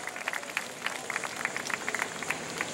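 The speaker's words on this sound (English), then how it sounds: "Ladies and gentlemen, give him a round of applause one more time." A crowd at a New Smyrna race track applauds the driver of the week, scattered claps crackling steadily over a faint, constant background hum.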